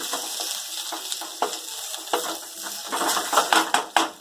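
Chopped ginger sizzles in a hot pan for palak paneer, a steady crackling fry broken by sharp clinks and scrapes of a spoon stirring against the metal, close and moderately loud, no voices.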